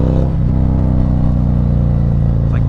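Engine of a 2020 Harley-Davidson Street Glide CVO motorcycle revving under throttle, a loud, steady low rumble with a dense, rich tone that holds throughout, up close with no talk.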